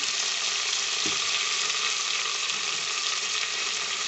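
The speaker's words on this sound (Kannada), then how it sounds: "ಇದೆಲ್ಲ ಚೆನ್ನಾಗಿ ಫ್ರೈ ಮಾಡ್ಕೊಬೇಕು" Chopped onion and ginger-garlic paste fry in a hot pan for tomato bath, giving a loud, steady, close-up sizzle throughout, with a single soft clink near the start.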